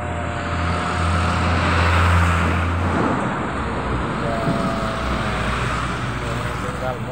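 A Pertamina fuel tanker truck passes along a busy road, its engine rumble swelling up close and fading, with other traffic noise around it.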